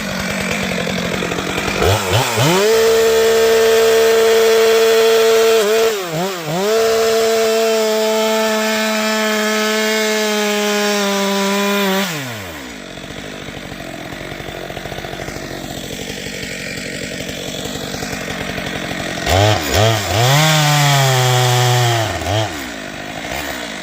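A chainsaw makes a bore cut into an uprooted, unstable tree. The engine drones loud and close, revving up and down, then drops to a lower idle and rises again toward the end.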